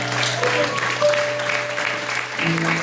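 A church congregation applauds the Lord in steady, dense clapping that fills the space, with sustained organ-like musical tones running underneath throughout.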